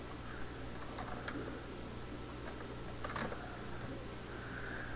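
Typing on a computer keyboard, faint scattered key clicks over a steady low hum of room or computer noise.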